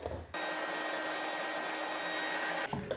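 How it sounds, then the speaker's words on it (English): A heat gun blowing hot air to dry clay pieces for a lamp, a loud steady whoosh with a high whine that starts abruptly, runs without a break for a couple of seconds, then cuts off. "I've also never done it by drying these pieces with a heat gun"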